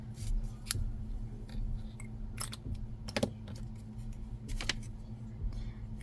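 Scissors snip through crochet yarn for a panda bear kit project, several sharp close clicks spaced irregularly over a quiet low hum, with no talking.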